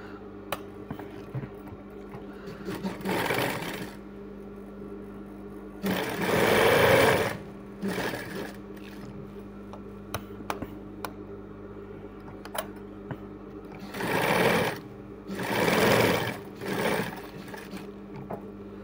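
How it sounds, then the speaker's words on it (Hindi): A domestic sewing machine stitches satin and lining fabric together in about five loud whirring bursts of a few seconds each, separated by pauses filled with faint clicks and a low steady hum. "यहाँ पर चारों तरफ सिलाई मारना है"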